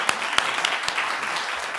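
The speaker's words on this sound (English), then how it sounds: "I'll ask you to join me in a round of applause for our panel" An audience at a law school panel event applauds the panel, giving a steady wash of clapping with a few sharper, closer claps standing out near the start.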